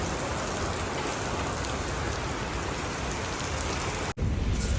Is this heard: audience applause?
no